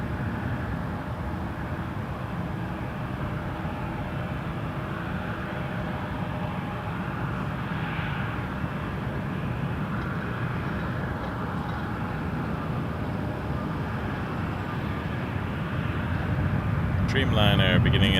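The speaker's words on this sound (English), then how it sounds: "Dreamliner beginning its takeoff roll." A Boeing Dreamliner jet starts its takeoff roll at Toronto Pearson Airport, a broad, steady engine rumble that swells louder toward the end, with voices talking over it.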